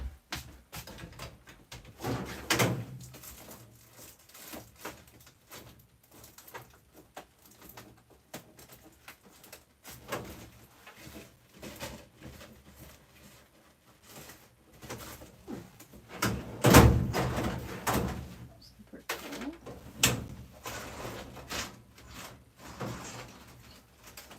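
Drawers slide open and shut and their contents are rummaged through during a cardmaking session, giving irregular scrapes and clunks at close range with one sharper knock partway through.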